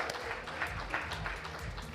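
A conference audience claps steadily for a guest being welcomed at a corporate event, a dense, moderately close burst of applause.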